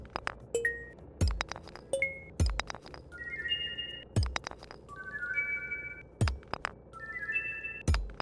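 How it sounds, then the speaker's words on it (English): Bright shimmering chimes and clinks from Stardew Valley play as geodes are smashed, with sharp thuds of rocks cracking open followed by rising, ringing tones of good-quality items appearing, repeated several times with no talking. "I am really addicted to the sound of getting a good quality item while he's smashing those"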